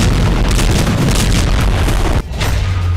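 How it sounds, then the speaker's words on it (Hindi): Explosions on the Lebanon border: loud, continuous booming blasts with heavy low rumble, one sharp burst standing out near the end. "लेबनान बॉर्डर पर लगातार बारूदी धमाके हो रहे हैं।"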